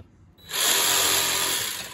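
A power jigsaw cutting material for assemblage art starts up after a short quiet moment and then runs as a steady, loud, close buzzing whine for the rest of the clip.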